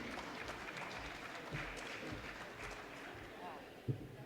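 A seminar audience applauds in a steady wash of clapping that sounds somewhat distant and continues throughout, with crowd murmur and voices mixed in.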